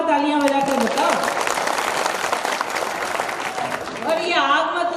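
Hindi comedy poetry gathering, with the crowd clapping loudly throughout. A voice can be heard over the applause at the start and again near the end.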